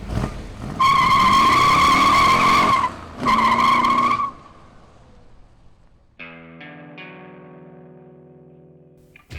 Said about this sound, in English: dumping the clutch to let the 490 foot-pounds of torque launch us straight into the 5th dimension